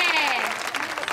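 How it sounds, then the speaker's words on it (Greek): Brief, loud burst of applause from children and adults at a kindergarten, dense clapping that fills the whole moment with voices mixed in. "Δυνατό χειροκρότημα και ξεκινάμε!"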